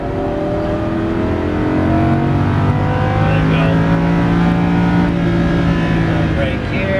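A Lamborghini Huracan LP610-4 engine at full throttle roars loudly and steadily, pitch rising slightly as it pulls, with a voice speaking over it at times.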